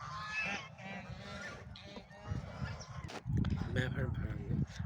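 Village ducks call in a loose, honking chorus that grows louder and busier toward the end, with someone talking over and between the calls.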